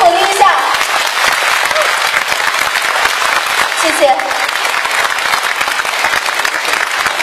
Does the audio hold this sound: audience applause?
yes